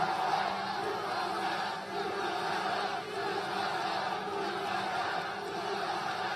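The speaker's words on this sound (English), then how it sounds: "This is a hell of a crowd for 1:30 in the afternoon." Rally crowd for President Donald Trump in Greenville, North Carolina, in the early afternoon, a dense, steady wash of cheering and voices that fills the whole stretch with no clear break.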